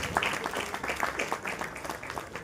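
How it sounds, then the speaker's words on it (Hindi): An audience at a church bishop's council gathering applauds, a moderate patter of many hands clapping steadily throughout with a slightly irregular pulse. "जोरदार ताली के द्वारा हम उनका स्वागत करेंगे।"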